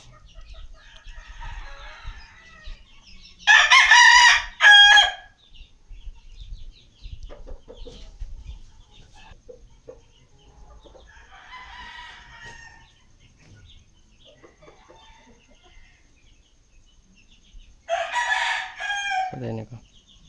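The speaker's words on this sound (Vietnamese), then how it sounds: "Đây là con gà bị sưng mặt." A chicken with a swollen face from a runny nose calls out in two loud, harsh crowing bursts, with faint clucks and quiet rustling between them, close to the microphone.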